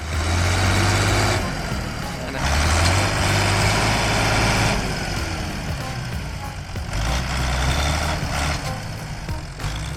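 An Ursus 914 tractor with a turbocharged four-cylinder diesel strains in deep mud while towing two hydraulic lift trailers, its loud engine surging and easing in heavy, rumbling waves.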